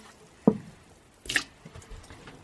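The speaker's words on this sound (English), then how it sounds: "So I think I need a little bit more water." Water is added to sourdough bread dough, giving a single wet plop followed by a brief squishy splash and faint dribbles, close and alone.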